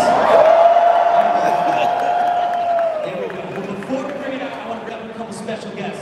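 A live crowd at the Ford Mustang Mach-E all-electric reveal cheers loudly and steadily as a sustained tonal note sweeps over the noise for a few seconds, then the roar settles into a broad, continuing wash of applause and shouting.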